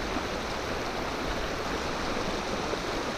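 Fast, swift water of the Middle Fork Holston River rushes in a steady, broadband roar, close and continuous with no voices.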